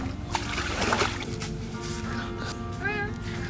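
A cat outdoors in a rural Hau Giang waterside setting in Vietnam's Mekong Delta gives a short rising meow near the end, amid background noise and nearby voices.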